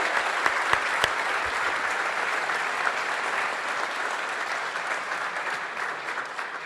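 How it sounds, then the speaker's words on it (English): A banquet crowd at the Notre Dame Club of Chicago gives a big round of applause, a dense, sustained wash of clapping with a few sharper claps standing out near the start. "I think they need a huge round of applause for that"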